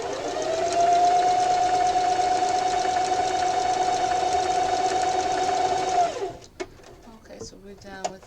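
A sewing machine stitches a drawstring backpack in a steady fast rattling hum for about six seconds, then stops, followed by a few handling clicks.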